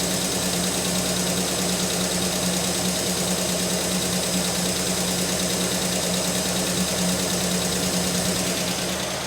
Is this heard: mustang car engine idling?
yes